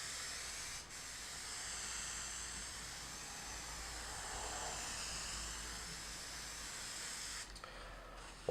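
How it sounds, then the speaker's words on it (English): An aerosol spray can is sprayed onto cardboard in one long, fairly quiet hiss that holds steady for about seven seconds before cutting off. "shake this can up, and we're going to see what we can do here. We just want to gently depress the nozzle."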